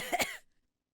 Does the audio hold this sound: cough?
yes